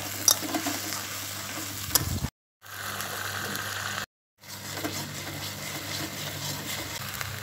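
Onion and garlic sizzle in hot oil tempered with bay leaf, dried red chilli and whole cumin, a steady moderate frying hiss cut by two brief silent gaps.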